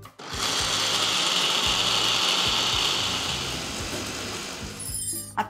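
A mixer grinder whirs loudly as it grinds soaked urad dal into a fine paste. The whine starts abruptly, runs steady with slight wavering, then cuts off with a rattle at the end.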